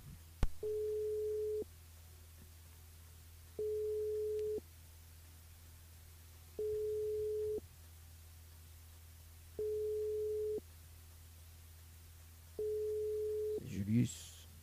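An unanswered telephone call during a live radio broadcast gives a steady repeating ringback tone, five evenly spaced pulses about a second long each over a low hum, with a brief voice at the end.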